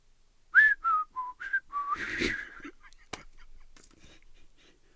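A man whistles a short series of rising and falling notes, bright and close, imitating a dog whistle, followed by a breathy rush and faint rustling.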